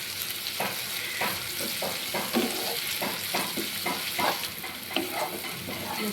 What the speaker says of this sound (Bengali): পেঁয়াজটাকে আমি 2-3 মিনিট ভেজে নেব।